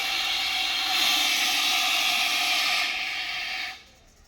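Fire extinguisher discharging at a fire department fire-safety demonstration in Udupi, a steady loud close hiss that holds for several seconds, then drops away abruptly near the end.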